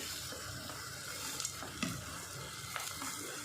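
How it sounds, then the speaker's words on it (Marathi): Potatoes and small dried shrimp stir-fried in red masala in a pan, with a steady close sizzle, a few scraping stirs and light clinks, and no voices. "आता बटाटे आणि आटल्या बटाटे आणि कर्दी आहे ना ही परतून घ्यायची"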